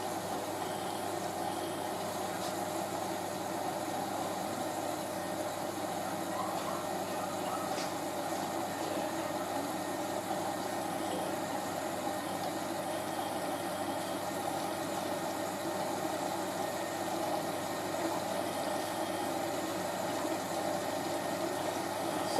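Hotpoint 9530 Electronic 1000 Plus washing machine running a towel wash, a steady low hum with faint sloshing water and pump drone, even and unchanging throughout, moderately quiet with no voices.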